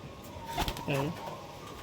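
A young Teddy pigeon gives a short burst of wing flaps and a brief throaty coo as it is let go, with a voice talking close by.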